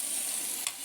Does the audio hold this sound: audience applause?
no